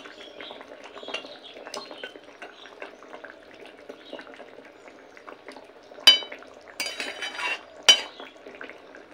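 Vegetable curry with lentil dumplings being stirred in a pan, quiet scraping and bubbling followed by louder clinks and knocks of a spoon against metal near the end, no talking.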